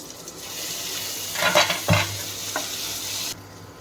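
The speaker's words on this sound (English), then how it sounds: "Let me add the tomato now." Roughly chopped tomato cooks in a pan for paneer bhurji, giving a soft sizzle under a few brief stirring scrapes and light utensil knocks against the pan, with no talk.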